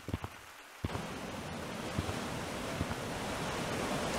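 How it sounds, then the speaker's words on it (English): Ocean waves in the Gorilla Tag virtual reality game give a steady, soft wash of surf and wind-like rushing that swells slightly. A few light knocks sound near the start. "can hear the ocean."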